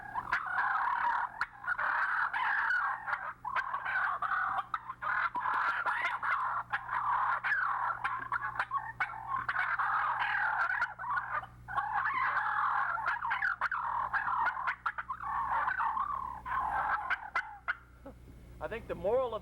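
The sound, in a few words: imitated gobbler fight, excited turkey purring and clucking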